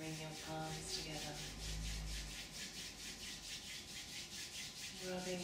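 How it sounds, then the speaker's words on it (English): Palms rubbing briskly together during a gentle yoga class, a soft, steady back-and-forth swishing with even rhythmic strokes, faint and close. "Rubbing them together,"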